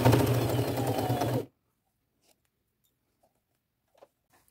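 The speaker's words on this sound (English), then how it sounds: "I'm going to take it to my machine and 1/2 inch seam allowance, stitch it all along the top edge here." A sewing machine running a fast, even stitch along the top edge of a fabric drawstring purse, a close, rapid whirring burst that stops abruptly after about a second and a half, followed by near silence.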